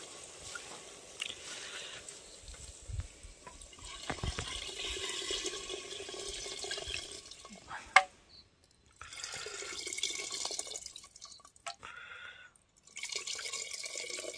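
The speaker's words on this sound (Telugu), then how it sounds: "చింతపండు నీళ్ళైతే ఇలా పోసుకోవాలండి" Tamarind water poured into a pot while cooking outdoors in a forest, a steady liquid splash with drips and short pauses, close by with no talk.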